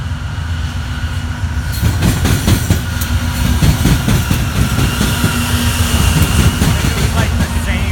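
A train rolls past on the BN rail line in Texas, loud and near, its steady rumble layered with rhythmic clicking of wheels on track joints and a faint squeal, continuous for the whole stretch with no talk.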